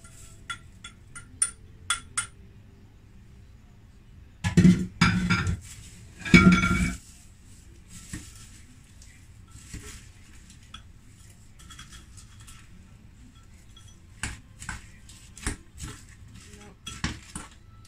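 Metal utensils clink and scrape against a bowl as crushed crêpe dentelle biscuits and almonds are folded into melted chocolate, with two louder bursts of stirring among sparse taps and knocks.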